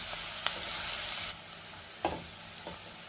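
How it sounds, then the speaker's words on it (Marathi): Garlic sautéing in a pan over a low-medium gas flame, a steady soft sizzle with a few sharp stirring clicks and scrapes, close by and fairly quiet, with no talking. "आता मी हा लसूण साधारण 1 ते 2 मिनिटं चांगला परतून घेणार आहे।"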